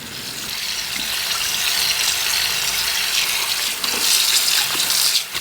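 Cold tap water runs steadily into a colander of noodles, a continuous splashing hiss close by with no talking.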